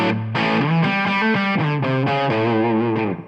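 Overdriven electric guitar tone played through a Tonex One pedal, a sustained distorted chord sequence with rich harmonics, close and loud, changing chords roughly every half second before fading out, no talking.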